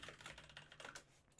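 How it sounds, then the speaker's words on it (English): Fast typing on a computer keyboard, a brief stretch of quiet, rapid key taps close by, with nothing else audible. "I'll try to talk and type at the same time."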